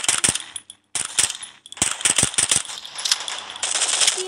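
An AK-47 fires in the Free Fire battle royale game: rapid, sharp automatic bursts broken by short gaps, loud and close, with no talking over them.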